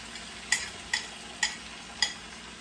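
Eggs fry in a pan alongside leftover rice and vegetables for a Chinese dinner, with four evenly spaced scraping stirs cutting sharply over a soft background sizzle.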